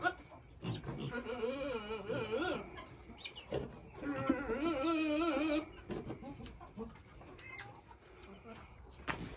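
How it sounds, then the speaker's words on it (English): A goat lets out two long, wavering bleats, strained and oddly warbling, close by, with quieter farmyard rustling and clucks between them. "it's a weird noise for a goat"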